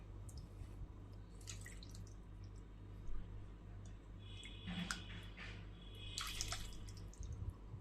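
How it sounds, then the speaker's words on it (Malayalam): Chicken thukpa soup poured into a bowl of noodles, a soft continuous trickle and dripping of liquid heard close by, with a few brighter splashes toward the end and no talking. "ആവശ്യത്തിന് സൂപ്പ് ഒഴിക്കാം"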